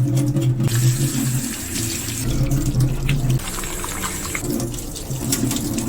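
Running tap water rinses a sea conch in a kitchen sink, a steady close gush of water lasting throughout with low background hum.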